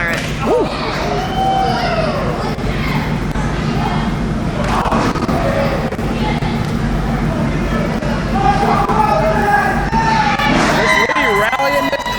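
A crowd at a CWF Mid-Atlantic wrestling event in Reading keeps up a steady roar of cheering and chatter, with occasional thuds from the ring, beneath a commentator's continuous play-by-play.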